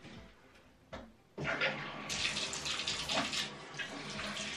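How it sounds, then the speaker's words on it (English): Water starts running through a Stone Stream filtered shower head, beginning with a few clicks and a brief trickle, then opening into a steady hissing spray with splashing that continues to the end. "right now we're going to go ahead and run the water"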